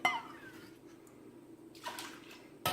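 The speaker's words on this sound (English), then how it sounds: "So we remove the whey down to the level of the curd." Whey being ladled off curds while making Colby cheese, soft watery sloshes and pouring splashes in short bursts, quiet and close, with gaps between.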